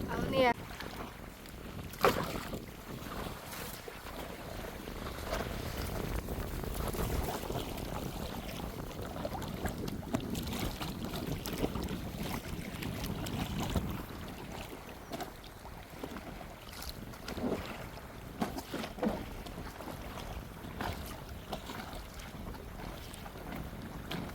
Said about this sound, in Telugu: రోజు మాత్రం గాలి చాలా ఉంది తుఫాను గాలి అండి